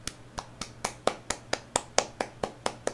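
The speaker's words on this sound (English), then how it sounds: "That's an applause." A single person claps alone at close range, about a dozen crisp, evenly spaced claps in a steady rhythm, each sharp and distinct rather than the wash of a crowd.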